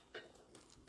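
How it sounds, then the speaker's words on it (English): A single short cough bursts out loudly at the very end, preceded by a faint throat noise, in an otherwise quiet moment between spoken remarks. "I coughed."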